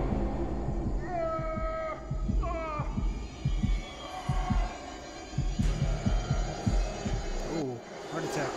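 A cat meows twice in quick succession, clear and fairly close, in the horror video game Man of Medan. The meows ride over a low, throbbing, heartbeat-like ambient pulse that continues throughout.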